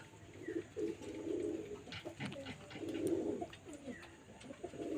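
A pigeon chick suffering from pox coos while being handled, with a few soft, low, throaty coos rising and falling close by, with faint rustling between them.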